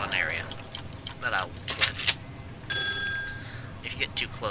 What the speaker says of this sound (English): if you get too close to the phone, it rings, and it's really annoying.